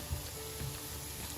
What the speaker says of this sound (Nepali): हेर्नुहोस् त मैले कति मजाले यसलाई चलाउँदै नै फ्राई गर्दैछु।